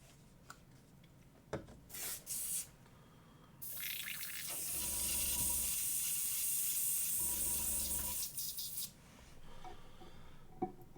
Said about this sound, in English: Alexa, airbrush off.